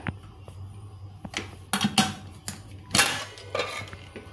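Metal clinks and clatters as a pressure cooker lid is lifted off a cooker holding soya pulao, a handful of sharp knocks and scrapes at close range against a quiet room hum.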